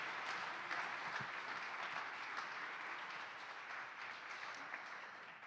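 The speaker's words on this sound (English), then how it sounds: "Let's give them all a round of applause." Audience at a district community gathering clapping steadily, a soft, distant wash of applause that holds evenly throughout.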